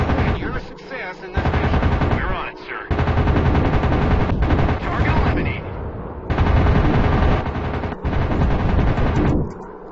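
Loud rapid bursts of anti-aircraft flak fire in the WW2 air-combat game Warplanes WW2 Dogfight, rattling in dense sustained volleys separated by short pauses, mixed with engine roar.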